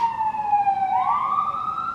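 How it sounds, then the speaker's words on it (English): A single emergency vehicle siren wails loudly, its pitch sliding down then rising again in a smooth sweep, close by and alone. "Sorry if you can hear the sirens."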